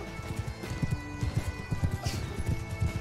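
A horse gallops in Mount & Blade II: Bannerlord, a medieval battle video game, with rapid rhythmic hoofbeats running throughout and a whinny over a busy din of battle.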